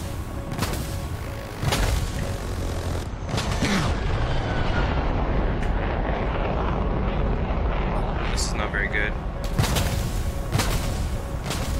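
A missile striking an aircraft in War Thunder, a MiG-23MLD jet battle, heard as loud booming blasts and rumbling engine noise in heavy layered bursts, with a player speaking over it.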